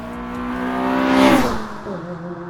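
Honda Civic Mugen RR engine revving hard, its harmonic note climbing to a loud peak and then dropping away as revs fall, with a smaller rise again near the end; close and alone with no talk.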